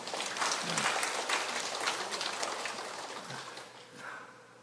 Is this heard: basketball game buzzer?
no